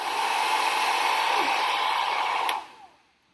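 A hair dryer blows with a steady, loud whooshing whine for a couple of seconds, blowing a feather away, then switches off and winds down to quiet.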